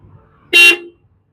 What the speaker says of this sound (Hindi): मारिए हॉर्न मारिए।